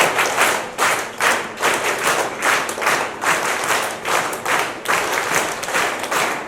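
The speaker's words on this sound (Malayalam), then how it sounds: "ഒന്ന് ക്ലാപ്പ് ചെയ്ത്" An audience at a public meeting claps hands in sustained, fairly loud applause, the clapping swelling and easing in waves with no speech over it.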